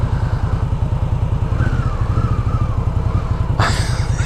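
A 2016 Victory Octane cruiser motorcycle engine rumbles steadily with a loud, throbbing exhaust pulse, idling close by, and a brief sharp clatter near the end.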